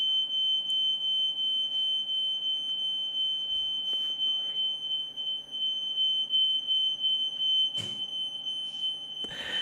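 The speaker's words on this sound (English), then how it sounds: "That'd be the smoke alarm." A smoke alarm sounds a steady, piercing high-pitched tone that holds continuously, with a few faint knocks and rustles in the room.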